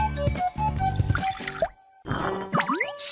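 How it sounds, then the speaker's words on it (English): Cartoon-style liquid sounds as latex and water are mixed: drips and plops over bright tonal effects, a brief silent gap, then a wetter splashing burst with rising bubbly tones. "Mix latex and water."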